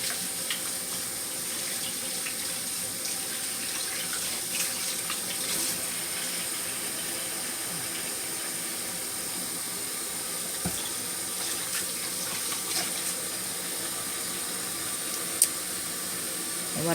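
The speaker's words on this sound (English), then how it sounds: "So I'm gonna wash my hands again." Tap water runs steadily at a kitchen sink while hands are washed, a continuous close hiss and splash that lasts throughout without pause.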